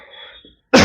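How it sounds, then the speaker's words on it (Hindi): A single harsh cough bursts out suddenly after a brief pause, close and loud, during a math class lesson. "आज कुछ ज्यादा खांसी आ रही है यार"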